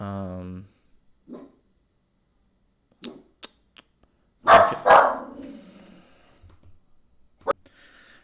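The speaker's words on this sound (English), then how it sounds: "Sorry about my dog." A pet dog barks indoors, two loud sharp barks close together with a later single bark, between sparse quiet moments and a brief spoken word.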